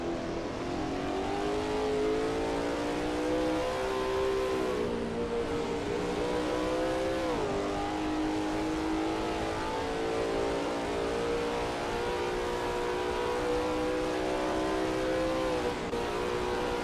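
A Lola T70 MkII Spyder race car screams steadily at Kyalami in a racing game, its engine note holding high and rising and dipping through gear changes and a corner, loud and continuous with no talk.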